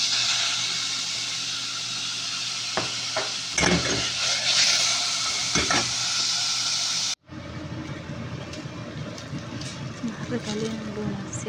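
Onions frying in oil in a pan for eggplant fattah, a steady loud sizzling hiss with scraping stirring clatter, then an abrupt shift to a quieter, lower sizzle.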